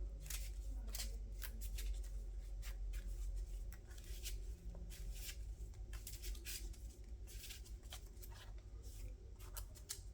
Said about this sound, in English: Let me go ahead and shuffle